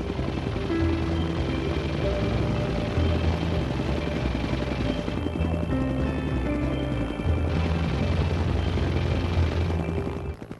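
In a flight simulator game, an AH-1W Super Cobra attack helicopter drones with a steady, loud rotor and turbine hum, continuous and close, with a soundtrack playing over it.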